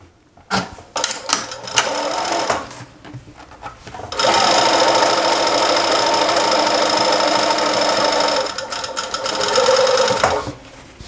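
A sewing machine stitches a seam closed on sturdy non-stretch fabric for a welding cap, running in a loud, steady whir for several seconds after a few brief starts and stops.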